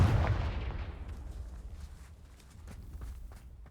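In Hogwarts Legacy, a Confringo spell explodes in a heavy, booming blast with a deep low rumble, then settles into a dwindling tail of crackles and small thumps.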